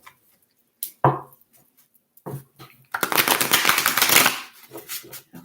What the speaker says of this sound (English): I'm just going to do 3 shuffles.